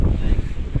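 Steady wind buffeting the microphone on a fishing trip in bad weather in Abu Dhabi, a low rumbling roar with a faint watery wash beneath it, continuous and close.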